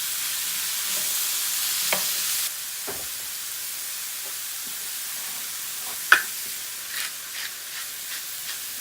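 Mushrooms fry in a pan for a frittata over lowered heat: a loud hiss softens into a gentler sizzle, with scattered close stirring clicks and taps throughout.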